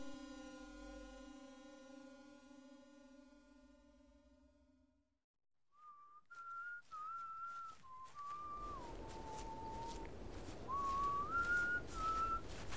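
A person whistles a theme song melody, a series of clear, tuneful notes rising and falling, heard close and alone after a sustained tonal passage.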